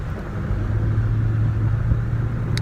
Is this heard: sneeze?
no